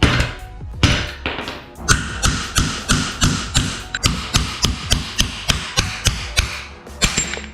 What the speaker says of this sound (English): Apparently you can bang these out by grabbing like a socket and placing it over and smacking it out.